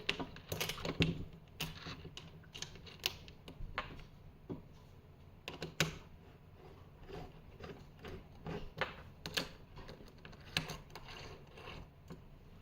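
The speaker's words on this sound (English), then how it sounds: "just screw these screws in" Small screws are driven by hand into a FEPeeler roll cutter assembly, giving a steady run of light mechanical clicks and ticks with a few sharper knocks, close and alone without talk.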